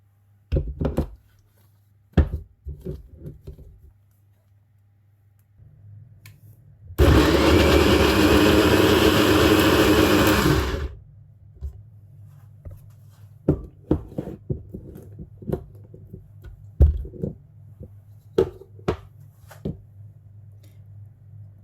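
A kitchen blender blitzes jerk seasoning ingredients in one loud, steady whirring burst of about four seconds, with scattered knocks and clatter before and after.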